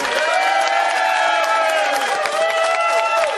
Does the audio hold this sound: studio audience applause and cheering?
yes